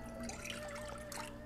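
Water is poured into a small cooking pot as a steady, soft trickle, heard close against a low kitchen hum.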